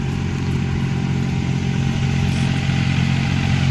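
A Farmtrac Atom 30 hp tractor engine labours under load with a loud, steady, close-up drone and a rough mechanical rattle that holds without a break.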